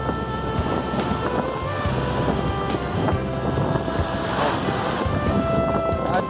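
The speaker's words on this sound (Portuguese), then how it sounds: "Aqui o mar é mais forte, as ondas são mais altas." Strong sea waves at Praia das Dunas beach in Cabo Frio, a steady loud roar of surf and crashing water mixed with wind buffeting the microphone, continuous throughout with no talking.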